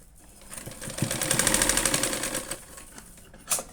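A sewing machine runs briefly and close up, stitching fabric while a tassel is being made, in a short rising burst of rapid needle chatter that fades out, with a click at the end.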